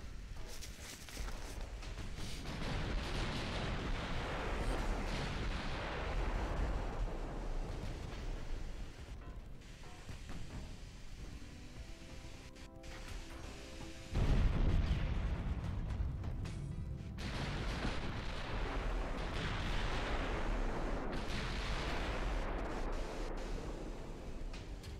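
Naval artillery fires in the Ultimate Admiral: Dreadnoughts game during a Bismarck battle, with heavy booming salvos and rolling blasts that come in repeated waves, fairly faint overall, one sharp louder report midway and no talk.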